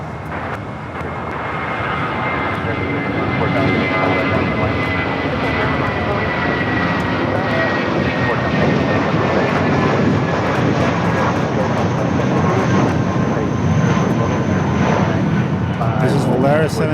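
A nine-year-old Airbus A320 airliner at Los Angeles International Airport roars as a loud jet engine rumble that swells over the first few seconds and stays strong and sustained, with a voice talking over it.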